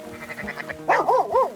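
Sheep bleating on a farm in the Red Dead Redemption video game, a run of short bleats followed by several louder, nearer wavering calls close together.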